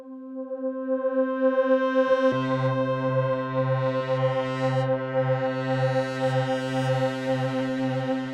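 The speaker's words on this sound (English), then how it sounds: "I'm going to change the LFO wave to a sawtooth wave." A buzzy, sustained Jupiter-8 V3 synthesizer tone with a sawtooth LFO making a steady wobbling pulse about twice per second, loud and alone, after a brief plainer opening note.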